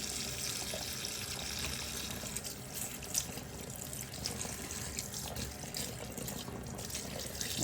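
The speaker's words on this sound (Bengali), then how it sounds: "শাকগুলোকে ধুয়ে নিচ্ছি একটা একটা করে ধুচ্ছি" Leafy greens are rinsed one at a time under a running kitchen tap, with a steady close splash of water into the sink and small shifts as the leaves move through the stream.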